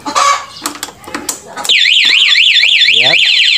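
A Honda Beat motorcycle's anti-theft alarm sounds loud and close, a rapidly warbling electronic siren following a few short chirps, while someone talks over the start.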